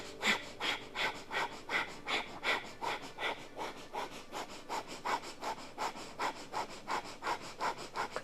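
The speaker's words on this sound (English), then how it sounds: "and breath of fire." Breath of fire in a Kundalini yoga class: rapid rhythmic nasal exhalations pump about three per second at steady tempo, close and fairly faint, with no talk.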